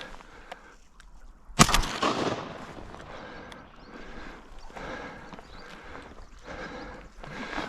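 A single sharp shotgun blast rings out close by during a duck hunt, followed by a rustling, noisy outdoor wash and movement.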